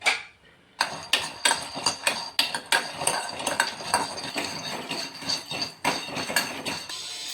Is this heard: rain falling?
no